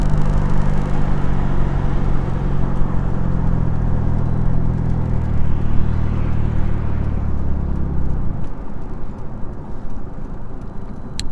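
A Honda Civic with its resonator and muffler cut off driving along, a loud close raspy engine drone and road rumble that drops in pitch and eases near the end.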